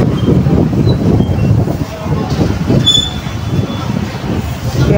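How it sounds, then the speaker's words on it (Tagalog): Strong gusting wind buffets the microphone outdoors, a loud, continuous low rumble that swells and dips throughout with no break. "Kaya mahangin ngayon, lakas ang hangin."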